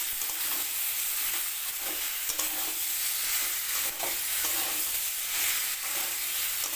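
Fried potatoes being stirred into a curry over medium heat, a dense, even sizzle that runs throughout with soft periodic scrapes of the spoon, no voices present.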